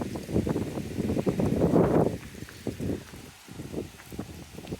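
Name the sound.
wind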